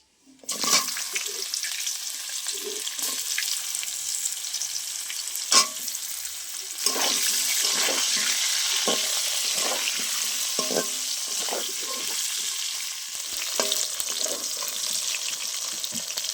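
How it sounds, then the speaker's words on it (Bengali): Pointed gourd (potol) frying in oil left over from frying tilapia, giving a loud, steady sizzle throughout with repeated clinks and scrapes of stirring. "একই তেলে আমি এবার পটলটা ভেজে নেব।"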